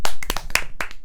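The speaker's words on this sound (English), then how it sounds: "let's give Gakpo a round of applause" About half a dozen sharp, close hand claps in quick, slightly irregular succession, loud and dry, as a short round of applause on a football podcast.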